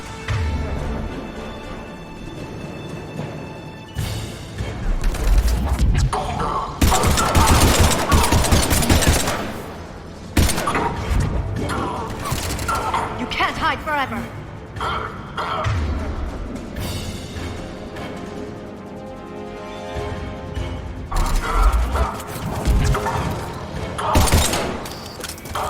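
Dense, sustained gunfire from a sci-fi video game battle, with rapid automatic bursts and heavy impacts layered under music and voices throughout.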